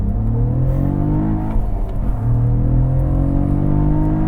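A Cadillac CT4 Blackwing's engine climbs hard toward redline, a loud continuous rising roar heard from inside the car, briefly dipping at a shift before pulling again.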